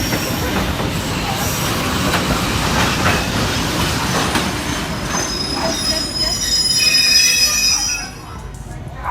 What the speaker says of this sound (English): In a blink, the train scraped through, crunching the door and twisting the side like a soda can.